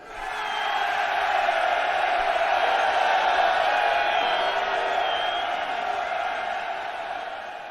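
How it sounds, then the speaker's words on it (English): A large crowd roars and cheers wildly, a sustained wash of many voices swelling in and holding loud before easing slightly, with no distinct individual speech. "The crowd, mostly silent until then, went wild"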